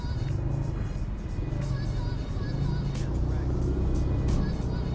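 Steady road traffic with cars rolling past on a busy street, a continuous close engine and tyre rumble throughout, with a few brief higher swells as vehicles go by and faint voices underneath.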